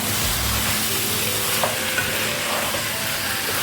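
Sautéing in a pan: a steady close sizzle of food frying, with a few soft scrapes of a spoon stirring it through and no voices.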